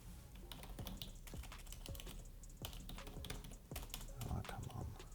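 Rapid, irregular clacking of computer keyboard keys typed at close range, with short pauses between bursts and a brief dull thump near the end.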